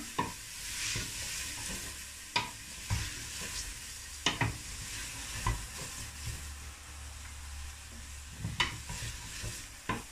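Food fries in a pan with chopped parsley for a spaghetti dish, under a soft continuous sizzle, while a spoon stirs it with repeated scraping strokes and sharp clinks against the pan every second or two.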